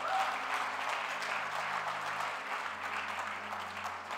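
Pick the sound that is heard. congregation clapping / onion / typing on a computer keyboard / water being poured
congregation clapping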